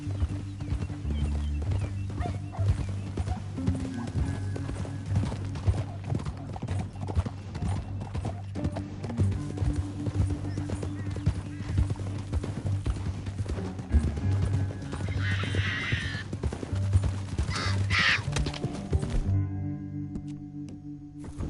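Horses in Red Dead Redemption 2 clip-clop along at a steady pace with a continuous rhythmic hoof beat, and a whinny breaks through near the end.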